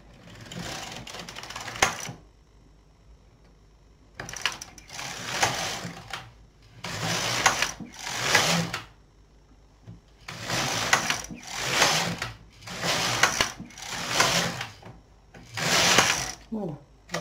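An LK 150 knitting machine carriage is pushed across 28 stitches of a toddler sweater in wool, in repeated rasping, ratcheting passes. The passes come in roughly one-second bursts separated by short pauses, close and fairly loud.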